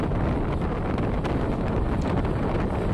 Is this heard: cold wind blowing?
yes